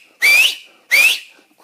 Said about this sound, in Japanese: ここにいて指笛呼ぶとワンちゃんたちが来るんですけど